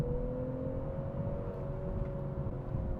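A 2021 BMW 540i xDrive engine revs out in a low gear, a steady muffled drone that sounds distant and restrained in comfort mode with no piped-in audio, climbing gently over rolling low-end road rumble.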